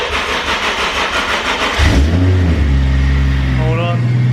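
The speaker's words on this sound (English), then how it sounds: "we're gonna start it in the air before we drop it down" A Toyota Supra Mk4 with a twin plate clutch and T56 Magnum six-speed, raised on a lift, cranks rapidly for nearly two seconds, fires up loudly and settles into a steady idle with a brief blip near the end.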